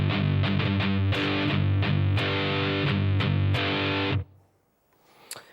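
A distorted electric guitar plays a riff at a slow tempo, mixing chugging palm-muted downstrokes with accented chords in a steady rhythm, then lets the last chord ring briefly before it stops.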